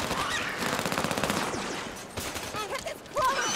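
Rapid automatic gunfire in Halo 5: Guardians, a dense burst of shots up close, followed by scattered combat effects and brief voices.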